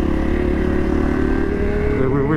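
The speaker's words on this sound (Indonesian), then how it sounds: "Kita kayaknya si Kesa pengen nyoba wheelie dia, pakai knalpot baru" A motorcycle fitted with a new exhaust revs loudly and continuously up close, its engine note climbing steadily as it accelerates, the rough droning tone filling the whole moment without any voices.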